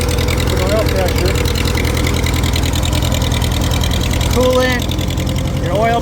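A Farmall 350 tractor that had sat unused for five years idles with a steady low, regular engine throb that holds through the whole stretch, while people talk over it.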